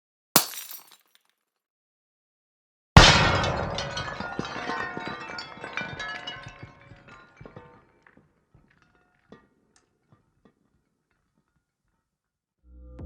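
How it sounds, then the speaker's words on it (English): Glass shatters in a sudden loud crash, recorded ultrasonically and slowed down, followed by a long ringing, tinkling aftermath of scattering shards that fades over several seconds, with a short tap before it. "this very interesting aftermath of harmonically rich shattered glass"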